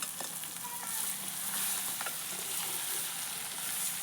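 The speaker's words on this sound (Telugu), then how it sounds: "కర్రీస్ పీసెస్, చికెన్ పీసెస్ లైట్గా వేసుకుంటాను" Chicken curry pieces frying in a pan, a soft continuous sizzle with occasional light crackles and spoon clicks, fairly quiet and steady.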